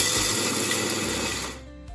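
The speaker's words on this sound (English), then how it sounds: "Now, grind the roasted seeds and ghee." A kitchen grinder whirs steadily while grinding roasted gond (edible gum) seeds with ghee, a loud continuous motor drone that runs for about a second and a half before cutting off.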